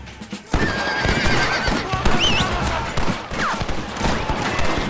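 A horse in the Red Dead Redemption video game neighs and whinnies loudly over rapid clip-clop galloping hooves, with bursts of gunfire and game action around it.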